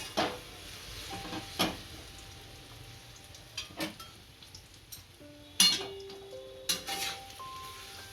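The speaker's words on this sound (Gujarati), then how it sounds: "આપણું ઘી સારી રીતના ગરમ થઈ ગયું છે. આમાં હવે ખજૂર નાખીશું." Pitted dates roast in hot ghee in a pan for khajur pak, a soft, steady sizzle broken by scattered metallic clinks and scrapes of a spoon stirring against the pan.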